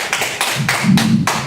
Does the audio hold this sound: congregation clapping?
yes